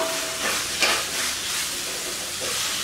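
Steady hiss and sizzle of sliced bell peppers frying in hot oil for a spicy South Indian mushroom curry, fairly close, continuous with no talking.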